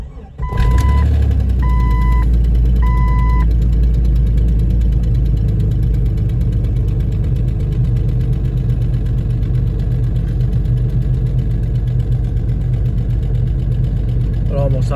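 Jeep 4.0 engine starting cold and settling into a loud, steady idle with a ticking edge from a suspected leaking exhaust manifold gasket, a few chime beeps sounding early on.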